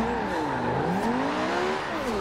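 Forza Horizon 2 car drifting with a loud, wavering tire squeal that bends up and down in pitch over a steady engine drone, continuous and close.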